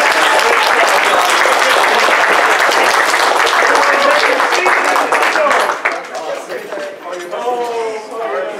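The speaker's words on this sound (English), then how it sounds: "let's give our performance a round of applause!" An audience at a fur convention show applauds a performance, loud dense clapping for several seconds that thins out near the end as voices and cheering come through.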